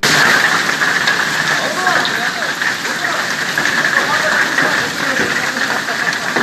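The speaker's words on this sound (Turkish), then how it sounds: "taş büyüklüğünde dolu yağdığı gözlemlendi" Heavy hail pounds down in a storm over the Çiğli and Karşıyaka districts of İzmir, a loud, dense and unbroken clatter of stone-sized hailstones lasting throughout.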